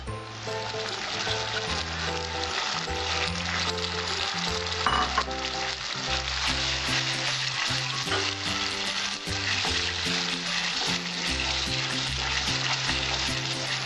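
Tomato puree and sour yogurt sizzle steadily in a pan of Bengali tel koi fish curry, a loud, dense frying crackle that runs unbroken with no talk.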